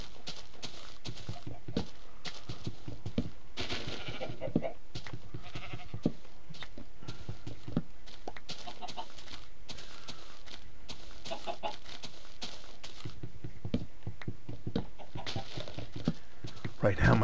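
Sheep bleats and chicken clucks from farm animals in the game Minecraft, scattered across a busy, steady mix of game sounds at moderate loudness.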